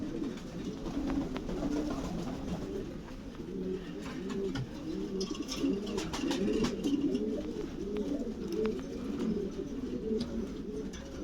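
Many pigeons coo continuously on a large caged pigeon farm in overlapping low, throaty calls, a dense steady chorus filling the space with occasional wing flutters.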